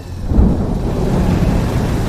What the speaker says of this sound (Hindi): बारिश शुरू हो चुकी थी